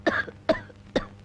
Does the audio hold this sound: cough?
yes